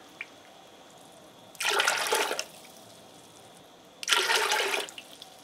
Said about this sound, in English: To this mixture, I'm going to add 8 cups of apple juice.